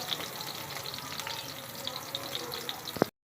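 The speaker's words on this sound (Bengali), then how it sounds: "নিগড়ে তারপরে তেলে ভাজা নেবেন সুন্দর করে" Squeezed soybean chunks frying in hot oil, a close, steady sizzle with faint crackles and stirring sounds that cuts off abruptly at the end.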